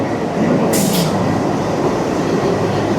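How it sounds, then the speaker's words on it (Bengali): The Doon Express pulling into platform 8 at a busy Indian railway station, a loud continuous rumble of the train rolling in close by, with a brief high hiss or squeal partway through. "আমাদের ট্রেন দুন এক্সপ্রেস ঢুকলো 8 নম্বর প্ল্যাটফর্মে।"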